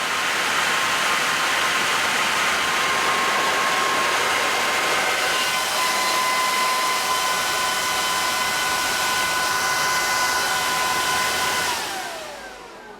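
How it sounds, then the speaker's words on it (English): A 120 mm Delta cooling fan rated at over 300 CFM roars with a loud, steady whooshing whine and a faint tonal hum, close by, then spins down and fades near the end. "This is like a 300 and something CFM, 120 millimeter Delta fan."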